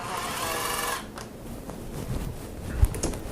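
Cordless drill backing out the chain guard screws on a bike during a balance bike adapter installation: a close, steady high-pitched whir for about a second, then quieter handling clicks and a small knock.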